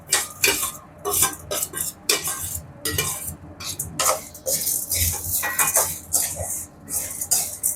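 Roasted spices and garlic for a drumstick-leaf idli podi, stirred together in a pan with a busy run of close scraping and metallic clinks, a faint sizzle beneath.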